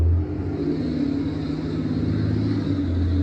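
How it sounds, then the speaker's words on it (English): Low, steady engine rumble of a garbage truck at night, a continuous close drone with a deep hum filling the whole moment. "The Dragon garbage truck."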